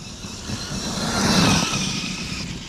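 Losi DBXL-E 2.0 electric RC car running at full throttle, a steady high-pitched motor whine that swells louder toward the middle of the run, then eases slightly, with no voices over it.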